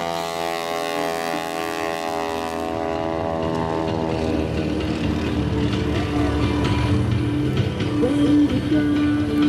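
Aerobatic propeller airplane on its takeoff roll at the 2015 Blue Angels Homecoming air show in Pensacola, with a loud, steady engine drone whose pitch shifts as the run builds, plus faint background voices.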